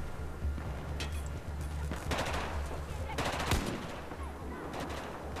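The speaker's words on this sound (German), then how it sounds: "Es wird zwar auf mich geschossen, aber ich traue mich weiter." Automatic and single gunfire from the video game Battlefield 4, loud bursts of rapid shots and heavy impacts filling the whole stretch with a constant low rumble beneath, no speech heard.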